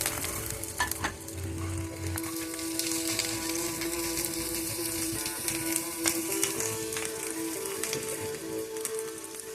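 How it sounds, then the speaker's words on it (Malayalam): Pearl spot fish in banana leaf sizzles steadily in a hot pan brushed with coconut oil, a continuous crackling hiss with occasional pops and light scraping, close and fairly loud. "തീ കുറച്ച് വെച്ചിട്ട് നമുക്ക് ഒരു പത്ത് മിനിറ്റ് അഞ്ച് മിനിറ്റ് കഴിയുമ്പോൾ തിരിച്ചിട്ട് കൊടുത്ത്"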